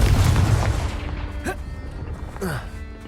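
A booming fire-spell blast in the Hogwarts Legacy video game opens loud and deep, then decays into rumbling debris, with sharp sweeping magical effects cutting in at about 1.5 and 2.5 seconds.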